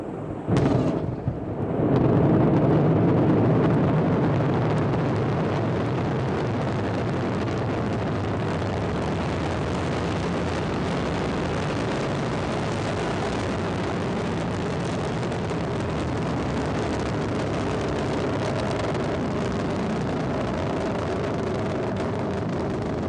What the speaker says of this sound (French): Allumage Vulcain, décollage.